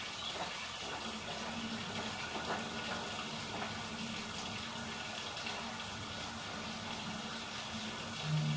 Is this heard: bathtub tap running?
yes